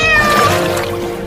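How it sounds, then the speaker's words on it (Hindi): A cartoon cat meows while drowning in floodwater, a loud, wavering cry over a dense, watery background with splashing and dribbling throughout the short moment. "वहाँ देखो, एक बिल्ली पानी में डूब रही है।"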